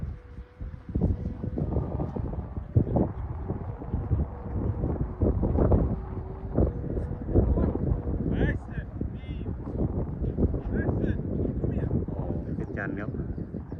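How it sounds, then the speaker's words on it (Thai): Strong, gusty wind buffets an outdoor microphone while a Thai kite is flown, roaring and rumbling continuously in the low end, loud throughout, with someone talking over it and crow-like calls in the background. "ลมแรงลมกระชากครับลมไปทั่วครับวันนี้"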